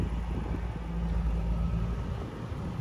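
A 1992 Jaguar XJS V12 convertible idles steadily, giving a smooth, continuous low rumble with no talking.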